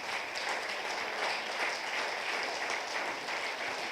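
A church congregation applauds together in a steady, dense burst of clapping that carries on evenly throughout.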